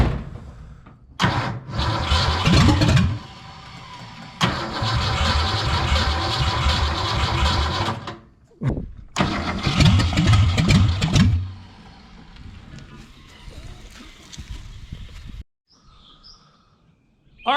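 A 1973 Mercury Comet GT, being driven for the first time in 35 years, cranks and roars loudly up close in several long revving bursts separated by brief drops, then settles to a quieter idle before falling nearly silent.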